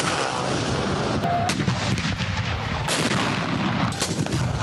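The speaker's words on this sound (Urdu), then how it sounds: "دن کا آغاز نماز فجر کے بعد وفاقی دارالحکومت میں 31 اور صوبائی دارالحکومتوں میں 21 توپوں کی سلامی سے کیا گیا" Cannon salute fired at dawn after morning prayers on Eid Milad-un-Nabi in a federal or provincial capital, a loud run of booming blasts over steady crowd and street noise.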